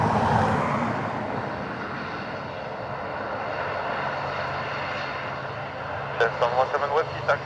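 An ATR turboprop airliner landing at Dublin Airport, a loud broad propeller and engine roar that fades to a steady drone, with a radio voice at the end.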